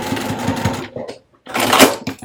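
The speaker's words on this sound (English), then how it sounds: "I want to stitch this in place so it doesn't shift." A sewing machine stitches a fabric lining in two short runs of rapid, even mechanical chatter, close and clear, separated by a brief pause.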